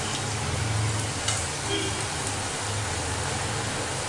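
Thattai frying in hot oil while being turned over so both sides cook, a dense, continuous sizzle with bubbling crackle, steady and close throughout, with no voice over it.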